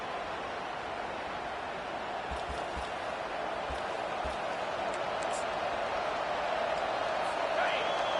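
A football stadium crowd roars in a dense, steady wash of noise that holds loud throughout the game action, with a slight swell near the end.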